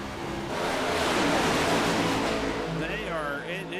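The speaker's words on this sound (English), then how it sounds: "You hear those tires really begging for mercy." Race car tires squealing on an Atlanta short track during a Select Series night race, a loud continuous roar of engines and tire scrub with a rising squeal near the end, captured as an onboard ride.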